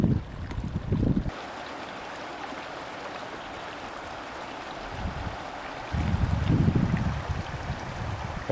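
A mountain creek meanders down toward Timberline Lake near Mount Whitney with a steady broadband wash of flowing water, overlaid at the start and end by low gusty rumbling like wind on the microphone.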